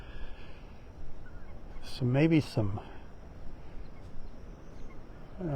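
Wading birds, likely great white egrets and great blue herons, give a short burst of honking calls across the water at a quiet sunrise beach at Clam Pass in North Naples, heard at moderate distance over soft surf.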